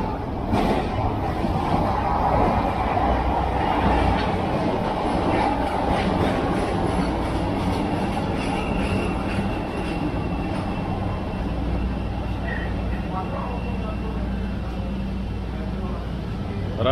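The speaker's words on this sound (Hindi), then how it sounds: "इसका मतलब है ट्रेन आ रही है" Train pulling into a Chicago rail station, a steady loud rumble with rolling wheel noise running throughout, with people talking over it.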